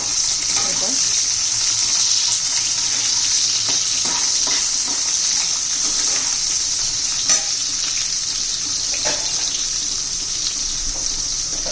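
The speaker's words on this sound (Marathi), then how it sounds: "कांदा चांगला आपण परतून घेऊया" Sliced onions sizzle steadily in a hot pan while being sautéed for masala rice, with the continuous hiss broken by faint scrapes and stirring clatters throughout.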